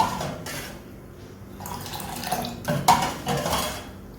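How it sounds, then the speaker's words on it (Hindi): Kashmiri pink tea is whisked in a pot with irregular clinks and scrapes of metal against metal, quick uneven strokes at close range, with no talking. "2 कप डालने के बाद मैं इसको फेंटते हुए इतना पकाऊंगी कि 1 कप पानी सिर्फ इसमें रह जाएगा।"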